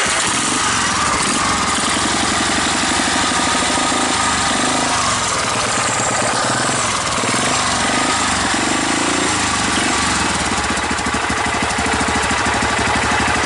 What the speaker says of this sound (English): You guys can see it's idling away.